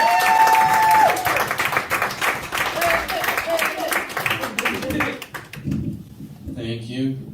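A comedy-night audience in Port Stanley claps and cheers for a comedian taking the stage, a dense burst of applause with whoops that thins out and fades after about five seconds, followed by a voice speaking briefly.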